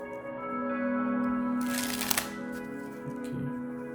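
Stiff, smooth plastic-feel Chrome King Players Edition playing cards flexed and riffled, a close, bright burst of rapid flutter about a second long rising out of a steady background hum, with a few lighter clicks after.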